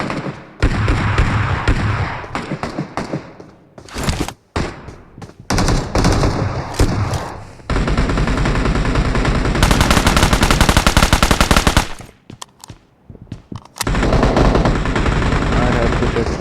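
A big gun firing in a video game: loud bursts of rapid automatic fire with heavy thumps, broken by short pauses and one long sustained volley, close and dominant.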